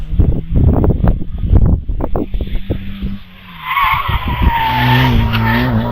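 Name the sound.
race car tyres squealing at Harewood hillclimb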